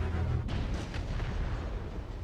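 Turret cannon fire striking a Black Knight mech in the MechWarrior video game: a loud, dense rumbling boom that sustains through the clip, with a sharper impact burst near the start and no talk.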